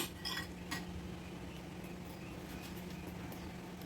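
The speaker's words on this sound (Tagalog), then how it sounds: "Haluin lang natin hanggat mag-well combine yung nilagay natin." A spoon stirring ice cream popsicle mixture in a bowl, with a few light clinks against the bowl near the start, then a steady, faint scraping swirl over a constant low background hum.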